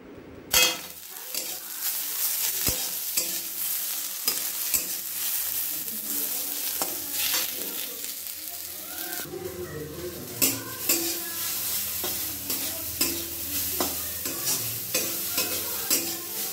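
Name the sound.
stirring and frying food in a pan while cooking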